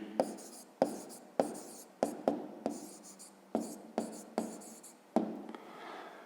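Pen writing a math answer by hand on paper, close and clear, with a series of quick taps and scratchy strokes spaced irregularly and no talking.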